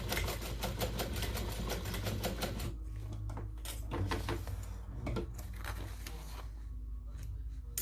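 Sewing machine stitching across pouch fabric, a rapid mechanical chatter that runs steadily, then breaks into shorter bursts with brief pauses, close and fairly quiet.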